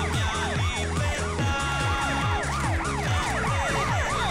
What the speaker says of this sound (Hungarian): Forog utánam a rendőrautó.